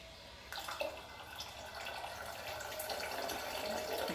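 Water splashes and trickles as rice is washed in a bucket, a soft, close swishing that grows slightly fuller toward the end, with no talk.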